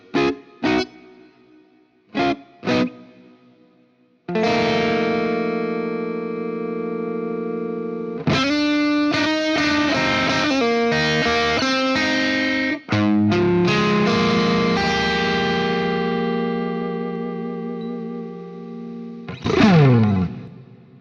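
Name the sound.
clean-ish electric guitar chords through a Marshall amp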